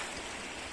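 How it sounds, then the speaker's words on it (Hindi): Monsoon rain falls near a mountain stream on a high-altitude trek in Uttarakhand, heard as a soft, steady patter and wash, faint and continuous without speech. "बारिश पड़ रही है"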